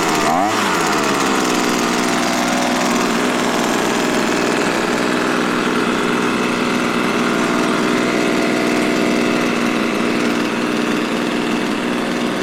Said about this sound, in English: So far, I think this leaf blower sounds good